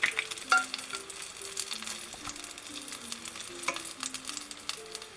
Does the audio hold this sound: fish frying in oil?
yes